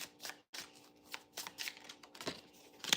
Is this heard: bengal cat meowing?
no